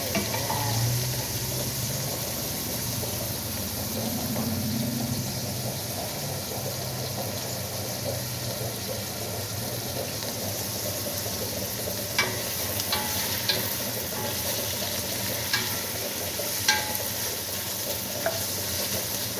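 Pancit noodles stir-fried with chicken in a pan give a steady, moderately loud sizzle and frying hiss throughout, with occasional light scrapes and clinks of a utensil against the pan and no talking.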